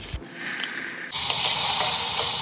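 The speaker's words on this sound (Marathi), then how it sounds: "छान फोडणी करूया मोहरी हिंग हळद कमीत कमी तेलात फोडणी करतोय" Mustard seeds, asafoetida and turmeric hit a small amount of hot oil, bursting into a loud, close, continuous sizzling hiss that swells further after a second addition.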